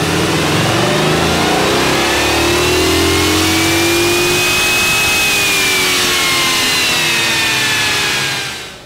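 A 2020 Ford 7.3L Godzilla V8 pickup on a chassis dyno running a 93-octane tune, its engine loud and close, sweeping steadily up through the revs in one long sustained pull before cutting off at the end.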